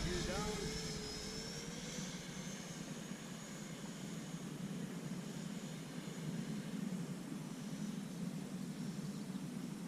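A Freewing Mirage 2000C V2 RC jet with an 80mm electric ducted fan makes a low gear-down pass, producing a steady whooshing roar and a brief rising whine at the start, heard from some distance.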